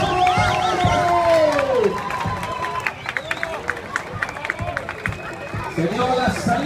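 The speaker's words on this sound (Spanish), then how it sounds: "Ahí está el aplauso" At the start of a 5 km race outdoors, a crowd breaks into applause and cheering, a lively wash of clapping, shouts and children's voices close by, with a loud voice and a rising tone early on.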